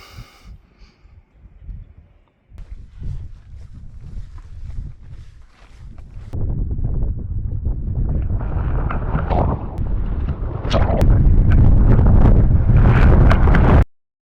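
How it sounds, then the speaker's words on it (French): Gusty wind by a bay in Ireland buffets the microphone, rumbling low and growing louder and rougher toward the end before cutting off abruptly. "je vois qu'il y a quand même pas mal de vent"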